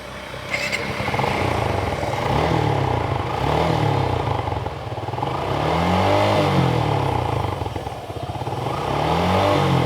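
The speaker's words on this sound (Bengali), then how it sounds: "এই বাইকটি চাউন কন্ডিশনটাও আপনারা শোনানোর চেষ্টা করতেছি" A motorcycle engine runs close by, its rumble rising and falling in repeated revs with a steady, throaty idle between.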